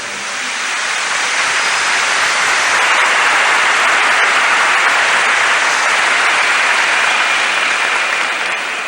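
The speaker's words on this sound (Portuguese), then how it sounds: "Give the Lord a big clap for that." Sustained applause from a large church congregation fills the whole stretch, a dense, even wash of clapping that stays loud and steady throughout with no voices standing out.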